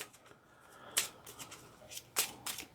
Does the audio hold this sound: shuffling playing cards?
yes